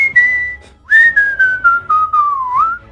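A person whistles a short melodic phrase, clear and close, with several sliding notes in a row and no talking.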